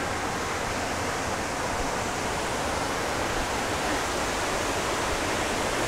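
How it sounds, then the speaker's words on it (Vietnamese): Mountain stream water rushing steadily over rocks at Thanh Long stream on Cam Mountain, a loud, continuous broadband roar close by with no voices. "Suối Thanh Long núi Cấm."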